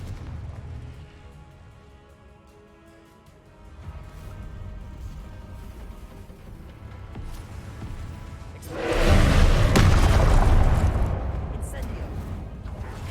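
A Confringo spell in Hogwarts Legacy on PC lands as a heavy, booming explosion with crashing debris that swells loudly midway and then rumbles down. Quieter game ambience comes before it, and a voice talks in the background.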